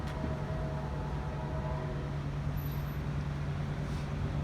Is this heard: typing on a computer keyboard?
no